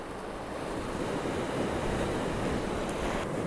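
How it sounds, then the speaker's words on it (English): Ocean surf washes steadily against a rocky shore in a continuous broad rush of water, mixed with wind buffeting the microphone and with no distinct single wave crash. "So I only have to watch for the waves. Sometimes they come too close."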